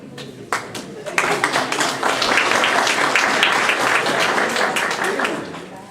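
Audience at a band reunion gathering breaks into applause after a few scattered claps, the clapping swelling into a full, dense, sustained round that lingers before easing slightly.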